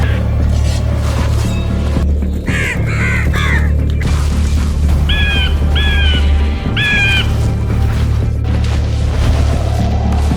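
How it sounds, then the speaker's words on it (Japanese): Wild birds squabble on rocks on a Central Asian mountainside, giving a few harsh, rising squawks and a run of repeated short calls, fairly near, over a steady low rumbling hum. "翼が岩にぶつかり、爪が広がり、くちばしがぶつかった"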